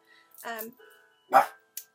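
A dog barking indoors, a couple of sharp close barks with short yelps in a quiet room, separated by brief pauses.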